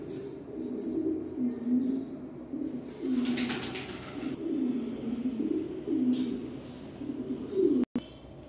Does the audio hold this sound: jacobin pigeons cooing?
yes